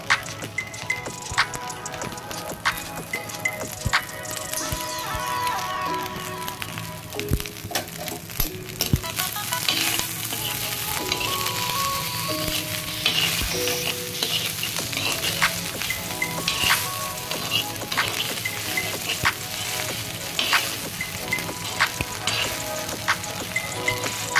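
Idlis frying in ghee with chili spice powder in a pan, a steady, close sizzle with occasional stirring clicks and scrapes running throughout without any talk.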